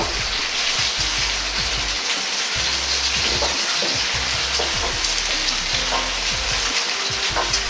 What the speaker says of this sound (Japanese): 少し強火にして肉からあふれ出た油で揚げ焼きしていきます